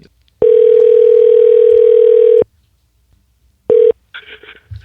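A phone call being placed late at night: a steady dial tone holds for about two seconds, a short burst of tone follows, then faint ringing or line chirps, with no talking.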